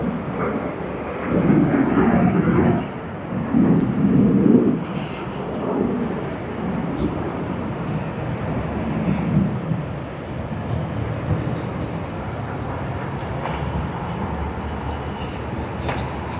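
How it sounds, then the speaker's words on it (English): Fiji Airways Airbus A350 arriving at Sydney Airport, a broad low jet roar that swells and fades in waves over wind noise, distant and steady rather than sharp. "we now have Fiji Airways, that beautiful A350 coming in from Nadi"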